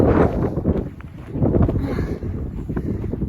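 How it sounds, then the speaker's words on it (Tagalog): Strong winter wind roars across the microphone on a snowy night in Edmonton, a loud gusting rush that dips briefly, then keeps blowing steadily. "Grabe yung hangin, napakalakas guys."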